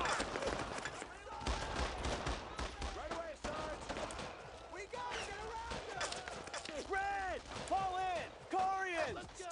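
Gunfire in the video game Brothers in Arms, scattered shots and bursts crackling throughout under shouted voices and game chatter, with frequent overlapping bursts toward the end.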